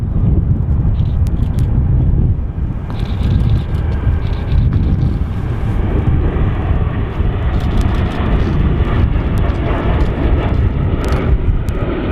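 Etihad airliner, a 787, departing Manchester Airport: a loud, continuous low jet engine roar fills the whole stretch, steady and broadband, with wind buffeting on the microphone and no clear talk over it.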